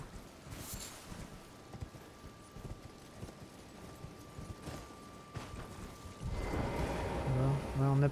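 Galloping horse in the video game Elden Ring, its rapid clip-clop hoofbeats steady and prominent before a louder swell of other game sound takes over near the end.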